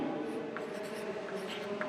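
A pen scratches lines on paper during a math construction, a quiet, close, steady rubbing with a few brief strokes standing out.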